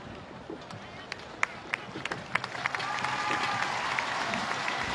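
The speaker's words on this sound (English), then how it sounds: "Crowd showing their appreciation for him." Football crowd at a Boeung Ket FC versus Sanna Khanh Hoa match applauding the team captain, a steady wash of clapping and crowd noise with scattered sharp claps, swelling slightly in the second half.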